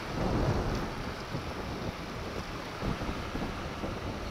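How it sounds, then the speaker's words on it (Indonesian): Light drizzle falls outdoors on a busy closed-off road, a steady broadband patter with low rumbling wind and distant engine noise throughout, no voices. "kondisi ini gerimis"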